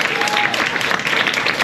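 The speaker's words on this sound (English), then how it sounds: "You can clap for me, make me feel good about myself." An audience claps for the evening's host at an arts event responding to Judy Grahn's work, steady, full applause that carries evenly from start to finish.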